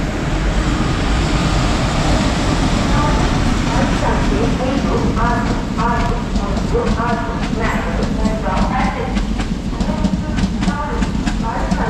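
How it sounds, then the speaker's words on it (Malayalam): A Mangalore-to-Goa train rolls in close by, its rhythmic clickety-clack of wheels on rail joints loud and building over a heavy rumble, while people talk at the platform. "നമുക്കുള്ള ട്രെയിൻ വരുന്നുണ്ട് കേട്ടോ. മംഗലാപുരത്ത് നിന്ന് ഗോവയ്ക്ക് പോകുന്ന ട്രെയിനാണിത്"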